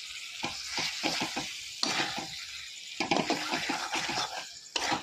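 Chicken korma being stirred in a pan after salt and sugar are added, with repeated scraping strokes of a spoon over a steady sizzle, close and fairly loud.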